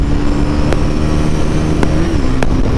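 A Pulsar NS 400Z motorcycle engine pulls hard as a loud, close, continuous drone with a slight rise in pitch, with no talking.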